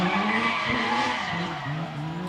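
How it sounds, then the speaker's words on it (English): Nissan 350Z drift car in a drift battle at Meremere, engine note rising and dropping as the driver short shifts, with tires squealing and skidding throughout, loud and fairly close. "You can hear Riley short shifting there"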